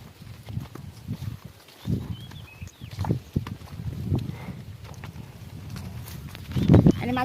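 Buffalo walk on a Konkan farm as they are led back to be tied, with soft irregular hoof thuds and shuffling on the ground nearby and a few louder knocks near the end.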